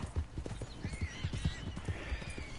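Horse in Red Dead Redemption 2 trotting with steady, close clip-clop hoofbeats, and a drawn-out whinny partway through, under faint background sound.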